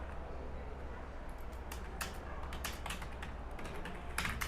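A computer keyboard gives a short burst of quiet, close key taps in an uneven rhythm over a low steady room hum.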